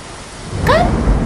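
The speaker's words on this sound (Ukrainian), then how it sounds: "Ой, грім." Thunder and rain: soft, steady rain noise swells into a deep, loud rumble of thunder toward the end, with a brief high chirp in the middle.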